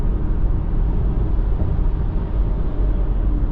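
Steady low rumbling road noise inside a Tesla Model Y Standard moving at highway speed, about 120 km/h, a constant broadband roar with no talking.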